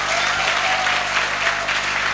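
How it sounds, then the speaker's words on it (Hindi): Steady applause from a crowd, continuous clapping filling the space at an even level throughout, with no voices standing out. "तालियां थोड़ी कम लग रही हैं।"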